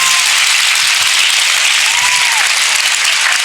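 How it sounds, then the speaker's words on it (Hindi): A large crowd at a Hindi-speaking Catholic youth Bible convention applauds loudly and continuously, a dense even wash of clapping with no break across the whole stretch. "जोर से ताली बजाओ।"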